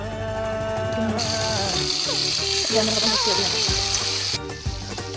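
Fish frying in a kadai in a village kitchen, a bright steady sizzle that rises and then cuts off near the end, heard beneath a playing song with singing.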